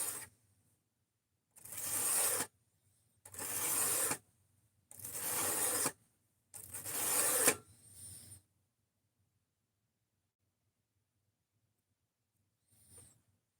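Knife blade being sharpened in four distinct rasping strokes of about a second each with short pauses between, close and fairly quiet, followed by a lighter scrape and then silence.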